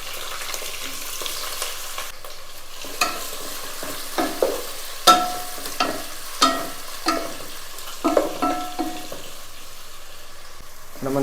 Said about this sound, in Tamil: ஒரு 2 நிமிஷம் வெங்காயம் வதங்கணும்